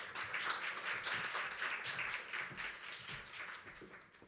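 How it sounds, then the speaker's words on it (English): Audience applause at a library event, a soft, steady patter of many hands heard from some distance, tapering off near the end with no talk over it. "Please give a big round of applause for Natalie"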